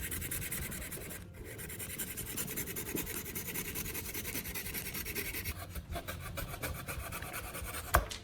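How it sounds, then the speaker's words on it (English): Plastic fan edges being trimmed to fit inside an old LED lamp cap make a steady, close, raspy filing and scraping that continues with brief pauses and ends in a small click. "Trim the edges of the fan so it can fit neatly inside the lamp cap."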